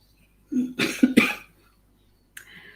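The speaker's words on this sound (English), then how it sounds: "this is my COVID cough" A woman recovering from COVID gives a short burst of close, harsh coughs, two or three rough hacks, followed by a brief breathy catch after a pause.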